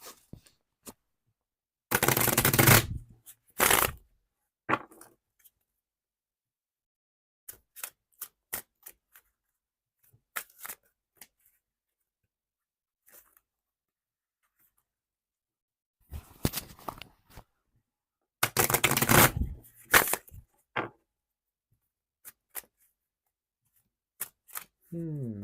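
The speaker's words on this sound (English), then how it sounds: "Get a good shuffle on this." A tarot card deck being shuffled by hand, with two loud riffling bursts separated by quieter taps and card handling, close and dry.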